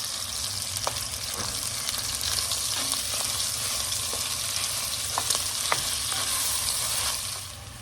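Continuous sizzling of sausage frying in a hot pan, with occasional scraping and tapping as it's broken up and stirred; no one speaks.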